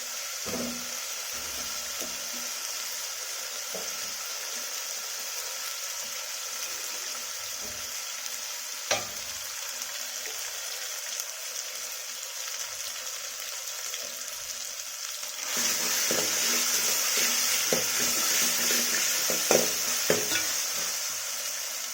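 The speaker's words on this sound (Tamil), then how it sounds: "இஞ்சி பூண்டு பேஸ்ட்டு வதங்கி" Ginger garlic paste sautéing in a pan for a spicy mutton dish, a steady soft sizzle with occasional stirring scrapes, growing louder and brighter toward the end, with no talking.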